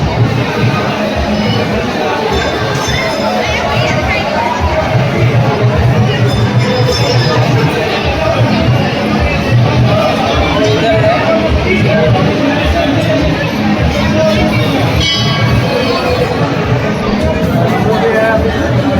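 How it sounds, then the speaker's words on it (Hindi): Dense crowd of devotees at a Shani Dev temple in Phillaur, Ludhiana, on Amavasya, a loud, steady wash of overlapping voices and chatter with faint clinks, continuous throughout. "इतना ज़्यादा भीड़ है, इतना ज़्यादा क्राउड शनि गांव में"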